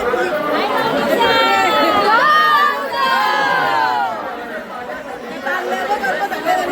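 Large crowd of devotees at Kelamba Devi temple in Kharoshi, a loud, dense hubbub of many voices with shouts and calls rising above the steady chatter close by.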